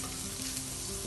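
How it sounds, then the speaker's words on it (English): Mushrooms fry in hot oil with a dense, continuous sizzle that stays close and fairly loud through the short stretch, with no voices. "last but not least, I have to fry the mushroom"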